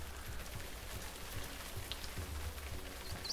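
Rain in the WolfQuest game falls as a steady, soft hiss of drops on the ground, continuous and moderately quiet throughout.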